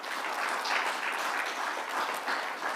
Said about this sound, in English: can I just ask you that we clap hands?